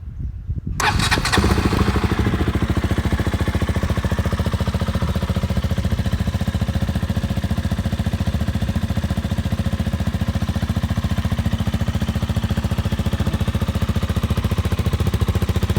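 A KTM RC200 motorcycle with a Yoshimura full-system exhaust fires up after a brief silence, then settles into a loud, steady, close-up idle with a throbbing, uneven exhaust pulse.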